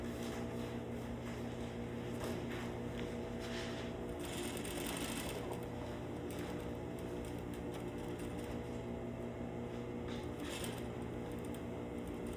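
Close and steady, a sewing machine hums continuously while stitching a rolled collar, keeping a constant mechanical drone for the whole stretch with no pauses.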